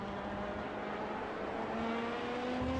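An LMP2 or GTE race car in the iRacing sim at Road Atlanta sounds steady and loud, its engine tone dropping and shifting as it brakes into a corner.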